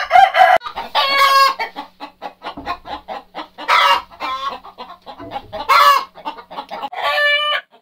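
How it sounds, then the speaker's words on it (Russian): Hens cluck in irregular bursts, close by, while a rooster crows loudly several times over the flock. "Вот курочки мои сегодня сидят"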